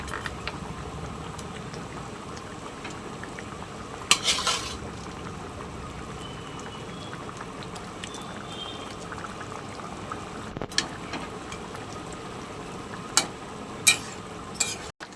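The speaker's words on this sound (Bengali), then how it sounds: "ঝোলটা ফোটা শুরু হয়ে গেছে, এবার আমি মাছগুলো দিয়ে দেবো" Fish pieces dropped into boiling cauliflower curry gravy, a low steady bubbling simmer with a burst of splashing and sizzle near the start and a few later clinks and knocks of utensils, close, no talking.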